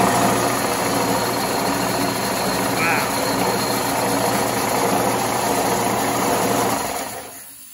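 A vintage Craftsman air compressor, rescued from scrap, runs with a steady, loud mechanical drone and rattle close by, holding constant before cutting off near the end.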